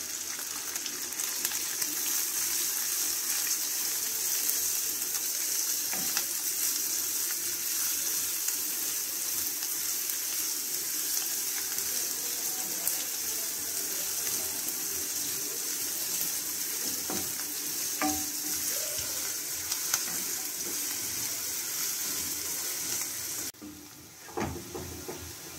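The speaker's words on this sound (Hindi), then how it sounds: "ये हमारी प्याज भुन गई है" Onions fry in a pan for rajma masala, a steady broadband sizzle that holds evenly and close for most of the stretch, with a few faint scrapes, before dropping away briefly near the end.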